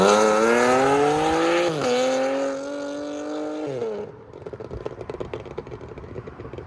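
A supercharged Audi SQ5 3.0L V6 with downpipes, an X-pipe and a 2.5-inch exhaust revs loudly and close by, holding a high, rising engine note that dips, climbs again and then drops off into lighter crackling and rumble.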